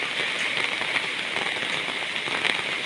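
Steady rain patters on a surface, a dense, even hiss with scattered drops, no voices.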